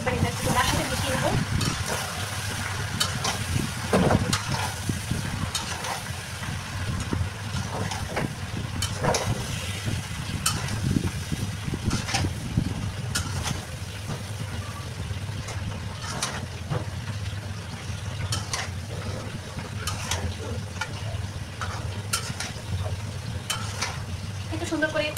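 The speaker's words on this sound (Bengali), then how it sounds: "এখন মূলা তো দিয়ে দিলাম, এখন ভালো করে নেড়ে চেড়ে একবার এটা একটু তার সাথে মিশিয়ে নেবো।" Radish and a large fish head frying together in a pan as they are stirred, a continuous low sizzle with occasional scraping clicks of the spatula, moderately close, and a faint low hum underneath.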